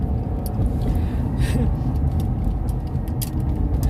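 A car driving on a road in the USA, heard from inside as a steady low engine and road rumble throughout, with a few faint clicks and rustles.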